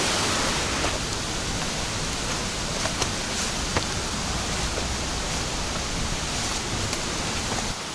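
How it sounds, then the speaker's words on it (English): Rushing water at the top of Bao Dai Waterfall, a loud, steady broadband roar that fills the clip without a break, with no one talking. "This is the top of Bao Dai Waterfall."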